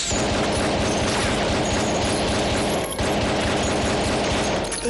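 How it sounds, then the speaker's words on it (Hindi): Dense, continuous gunfire in an action movie, rapid overlapping shots forming a steady loud barrage with no pauses. "गोली चलाओ"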